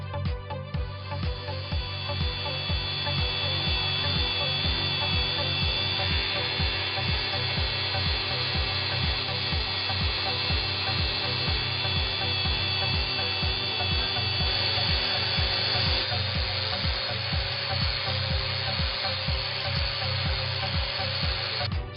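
A Blendex surface-conditioning disc spun at 5,000 RPM smooths a weld on a flat metal surface, giving a steady whirring power-tool drone with rapid regular abrasive pulsing throughout, close and continuous with no speech.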